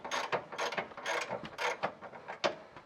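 A 15 mm ratchet wrench turns the top nut on a Bilstein 5100 shock on an F-150, making quick rhythmic clicking bursts close by with no talk.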